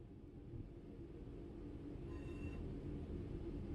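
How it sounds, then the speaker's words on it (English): A locomotive in Train Sim World 4 rumbles steadily as it slows to a stop, with a continuous low drone throughout and a faint high squeal of the wheels appearing about halfway through. "Allow the locomotive to come to a complete stop."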